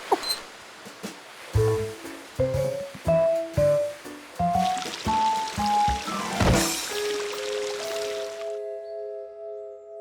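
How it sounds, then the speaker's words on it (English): Cartoon water effects: a series of short splashy bursts and plops in rhythm with bright musical tones, building to a bigger pour and splash before fading into sustained notes. "Water!"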